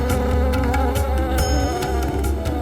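Insect buzzing from many bees swarming around a hive, a steady dense drone with overlapping whines, loud and continuous throughout.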